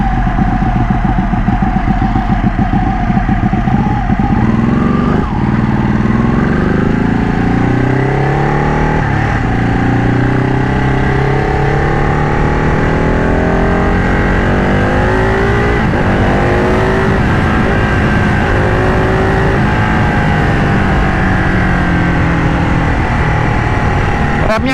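A Ducati Panigale 1199 Tricolore superbike, modified, roars steadily while being ridden, its loud engine note climbing and falling through gear changes with continuous wind rush over the whole stretch.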